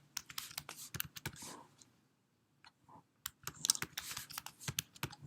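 A new password is typed on a computer keyboard: bursts of quick, close key clicks with a short pause in the middle before another flurry of keystrokes.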